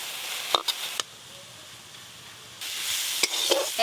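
Bottle gourd greens are stirred and fried in a pan, giving a soft hiss that rises and falls, broken by a few sharp scraping knocks of the utensil against the pan.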